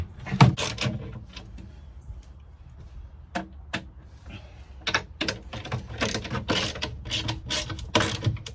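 A Gemlux compression latch is snugged up with a series of close, sharp mechanical clicks and ratcheting taps, irregular at first and then coming in quicker bursts.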